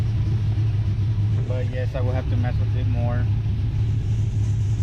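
A truck with a TSP stage 4 cam idles nearby, heard from outside as a loud, lumpy low rumble running throughout, while someone talks briefly over it.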